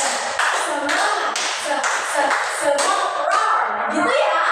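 A classroom group joins a rhythmic clapping ice-breaker game, bursts of hand claps falling in a patterned beat with chanting voices between them.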